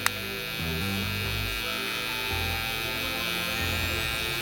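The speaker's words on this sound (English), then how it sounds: "And just use the corner of my trimmer." An electric hair trimmer buzzes steadily and loudly close up while it shapes a high taper haircut, its pitch shifting slightly as it moves against the hair, with no talking.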